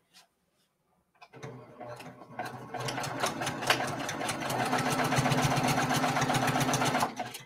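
An embroidery machine stitches in the ditch on a Kimberbell mini-quilt, starting with a brief tap and silence, then a close, loud, rapid rhythmic whirring and clacking that builds and continues steadily before stopping.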